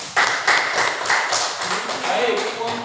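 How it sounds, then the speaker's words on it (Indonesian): Students applaud in a classroom after a group presentation, a lively burst of many hands clapping that starts abruptly and carries on fairly loudly and evenly, with some voices mixed in. "Di sini tepuk tangan dulu."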